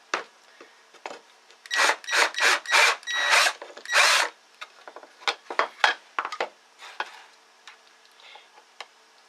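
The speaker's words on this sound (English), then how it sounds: "Don't drill all the way through." A power drill bores into the enclosure of a homemade control pedal for a Roland Cube 60 amp, sounding in several loud, rapid bursts near the mic, followed by scattered ticks and clicks.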